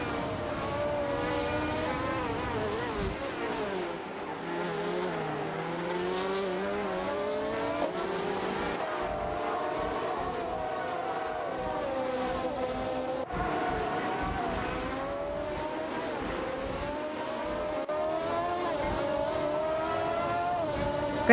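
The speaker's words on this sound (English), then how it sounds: "Keep those engines revved." Race car engines whine and rev in a video game, several motors rising and falling in pitch continuously, with occasional shifts between gears.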